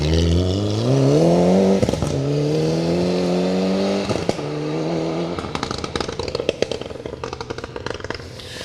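Mitsubishi Evo 9 rally car on a forest stage, its engine revving hard through rising gear pulls with sharp pops on lifts, then gravel clatter and crackle as it passes close and loud.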